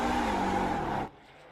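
A NASCAR truck in a racing video game roars through a loud, sustained burnout, the harsh engine and tire noise holding steady for about a second before cutting off abruptly to a faint background hum.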